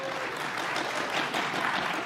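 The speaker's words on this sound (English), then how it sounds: "give yourselves a round of applause." A short burst of audience applause at a PAX East convention panel, many hands clapping steadily at moderate distance, with no talk on top.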